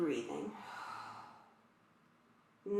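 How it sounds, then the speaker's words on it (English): A person breathes deeply while holding a yoga stretch for sciatica: a soft, audible exhale like a sigh fades into quiet, then a fresh intake of breath starts at the end. "And stay with the deep breathing."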